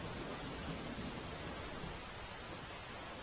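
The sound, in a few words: heavy rain pouring in Tapi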